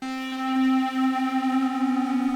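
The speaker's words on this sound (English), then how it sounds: "I used a square wave lead, and it's also a preset from our pack Color." A square wave synth lead preset plays a sustained melody with a bright, buzzy harmonic tone, notes gently shifting and wobbling, loud and alone with no voices.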